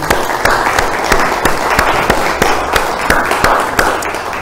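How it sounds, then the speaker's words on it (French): An audience at a talk on business energy transition applauds the speakers, a loud, sustained crowd of clapping hands with distinct sharp claps popping through, steady for several seconds. "on peut applaudir M. Rimbaud et M. Etienne"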